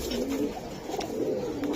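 A Silver Giribaz army pigeon coos softly in a low, rolling murmur, close but faint, with a little background noise and no talk.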